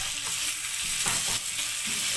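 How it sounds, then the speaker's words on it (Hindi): Tomatoes frying in a pan with ginger garlic paste for bhindi masala, a loud dense close sizzle broken by brief stirring scrapes and sputters. "इसको हम 2 से 3 मिनट तक हम फ्राई करेंगे ताकि टमाटर हमारे सॉफ्ट हो जाए"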